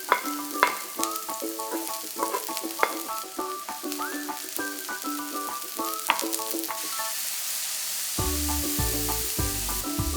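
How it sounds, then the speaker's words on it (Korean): Onion, mushrooms and shrimp stir-frying in an oiled pan, a steady sizzle with bright tonal clinks and scrapes of a utensil against the pan, close and without talk. "달군 팬에 기름을 두르고 양파를 넣어 투명해질 때까지 볶은 뒤 버섯과 새우를 넣고 함께 볶아줍니다."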